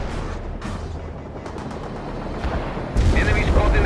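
Artillery blasts and gunfire rumble through a battle in the World in Conflict strategy game, a dense stream of rattling shots and booms that swells louder near the end, with voices speaking over the fighting.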